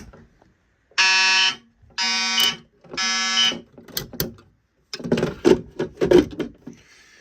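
An Edwards 270 SPO pull station sets off a fire alarm that sounds in three loud, even horn blasts with short gaps between them, followed by clattering knocks as the station is handled.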